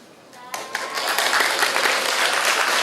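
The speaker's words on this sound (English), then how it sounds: "please giving him a very big applause for thank you" Audience applause after a lecture on ASEAN in a global context, a few early claps swelling quickly into steady, full clapping from the crowd.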